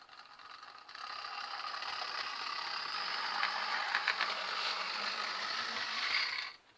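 A dry-motored OO gauge Class 58 model locomotive runs roughly on a layout, giving a steady rattling whirr with a ratchet-like edge that holds for several seconds and then cuts off. It is fairly quiet and heard alone.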